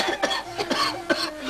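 A person coughing in a classic Tamil drama film, several short harsh bursts in quick succession, close and clear with no talk.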